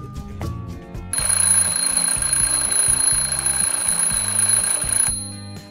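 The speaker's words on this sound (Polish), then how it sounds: "Pewnego dnia Klarę obudził wcześnie budzik." A loud alarm clock rings continuously for about four seconds in a cartoon toy-figure scene, its steady shrill tone starting abruptly after a short musical passage and cutting off near the end.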